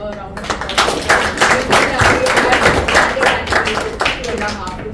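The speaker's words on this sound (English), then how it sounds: "let's have a round of applause" Meeting audience gives a round of applause, a dense, steady wash of many hands clapping at close range for the full stretch, with some voices mixed in.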